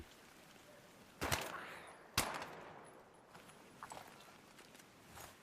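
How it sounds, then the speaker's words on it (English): Gunfire in a video game with the player's character hit by a couple of bullets: two sharp, loud impact cracks about a second apart, then fainter clicks and footstep-like taps over a low ambient bed. "Hit me with one or two bullets in the legs"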